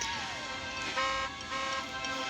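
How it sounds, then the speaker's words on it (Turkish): In the Roblox video game, a car horn toots steadily at close range as a car hits the player, with a faint voice underneath. "Bir araba çarpmış belli."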